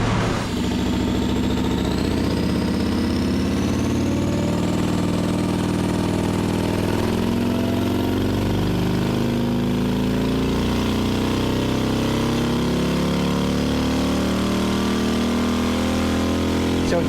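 A turbocharged Harley motorcycle engine runs on a dyno, loud and continuous at close range, its pitch climbing steadily through the revs with a turbo whine rising above the roar.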